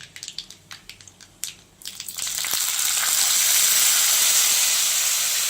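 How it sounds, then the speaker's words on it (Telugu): Tamarind pulusu is poured into a pan of fried dried red chillies, erupting after a few crackles into a loud, sustained hiss and sizzle that stays strong to the end. "ఇప్పుడు పులుసు, మనం కలిపెట్టుకున్న పులుసుకి దాంట్లో పోస్తున్నాను"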